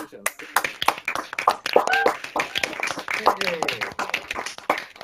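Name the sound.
graduates clapping on a video call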